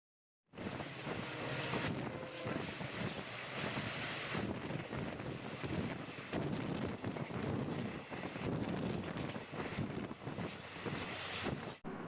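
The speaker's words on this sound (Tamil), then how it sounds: "நம்ம போகிற இந்த வண்டி மட்டும்தான் டீசல் இன்ஜினில் ஓடிட்டுருக்கு" A diesel-engine express train travels a single-track line on the Madurai–Sengottai route, heard from aboard as a loud, steady rush of rumbling and wind buffeting that continues without a break.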